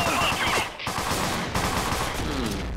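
Rapid bursts of gunfire from a shooting video game crackle loudly and continuously throughout, with one short gap, a dense fusillade close up.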